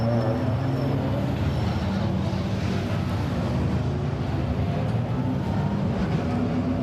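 GT4 race cars pour onto the windy Macau street circuit for free practice, a steady broadband engine roar with continuous low rumble throughout, no talk.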